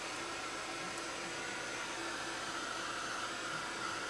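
A heat tool blows a steady, even rush of air as it dries gesso on a muslin art journal page. The whooshing hum is continuous and unbroken, with no talking.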